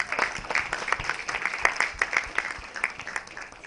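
Applause from an audience at a session with the cast and crew of a Nigerian blockbuster film: a crisp, continuous spatter of many hands clapping at moderate distance for several seconds, with no talk over it.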